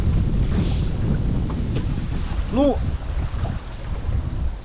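Steady strong north wind buffeting the microphone with a low roar throughout, a brief voice cutting in near the middle, on a rainy summer fishing trip.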